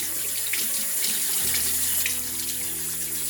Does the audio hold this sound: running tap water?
yes